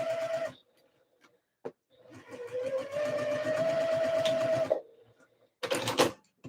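A sewing machine stitches skort fabric in short bursts and then one long steady run of rapid mechanical whirring, close up, with brief quiet gaps between the runs.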